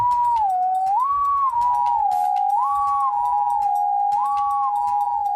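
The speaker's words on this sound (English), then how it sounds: "What the heck was that? I think it was Rowan's whalebone whistle" A whalebone whistle sounds in a fantasy tabletop campaign, a loud, steady mid-pitched tone that wavers up and down in three repeating rises and falls, held continuously throughout with no talk over it.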